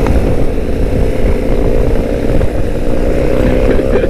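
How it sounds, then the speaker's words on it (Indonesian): Stock motorcycles race at top speed, giving a loud, dense, steady engine drone close by with no pause. "Kencang-kencang banget motornya."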